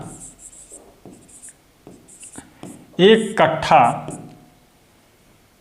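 Pen writing on paper gives soft scratchy strokes in short bursts, with someone speaking over part of it.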